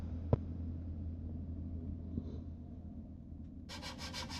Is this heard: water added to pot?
no